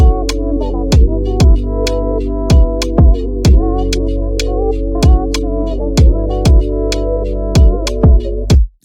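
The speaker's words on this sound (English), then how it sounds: "So together we have this all together with the bass." An Afro swing beat made in FL Studio, with booming sub bass holding single sustained notes under a steady pattern of punchy kicks and percussive hits, loud and continuous with no talking.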